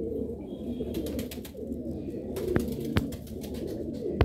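Golden and Sialkoti pigeons, a breeding pair, cooing in low murmuring bursts close by, with a few sharp clicks and knocks in the background.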